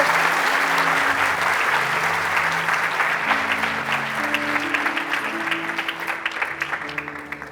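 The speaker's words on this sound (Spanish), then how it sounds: "denle un fuerte aplauso a nuestro Dios y póngase de pie" A church congregation applauds loudly at a Spanish-language service, dense clapping that thins toward the end while music plays underneath.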